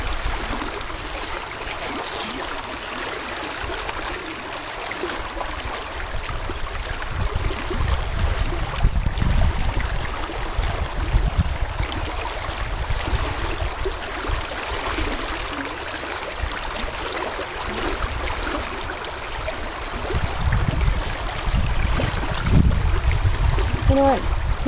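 Water rushes steadily through a sluice box on a stand as sand is washed for gold outdoors, a loud continuous flowing wash with gurgling surges, and a person talks over it.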